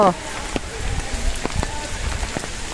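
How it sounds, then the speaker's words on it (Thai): Rain falls steadily on a wet street corner, a soft continuous patter with scattered louder drops close by, carrying on alone without talk through the short stretch. "วันนี้ฝนตก"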